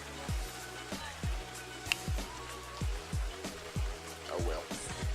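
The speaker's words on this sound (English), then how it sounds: "as soon as I take off the old chin spoiler, it starts raining" Steady rain patters on a surface around a 1998 Ford Mustang Mach 1 parked outdoors, a broad continuous hiss with scattered drops and a few dull thumps, moderately quiet and without talk.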